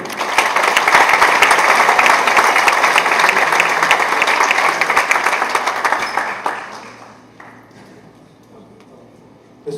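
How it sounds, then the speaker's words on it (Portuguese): An audience at a talk welcoming the speaker with loud, dense applause, sustained for about six seconds and then fading to scattered claps and quiet. "Vamos receber com uma salva de palmas, Márcio Raskoski."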